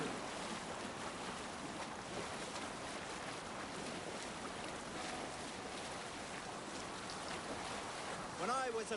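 A sailing boat rushes over ocean waves in Assassin's Creed Valhalla, with a continuous broad wash of water and wind at steady level, a brief burst near the end.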